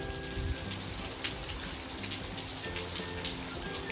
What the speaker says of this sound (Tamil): நல்லா மழை பெய்யுதுங்க.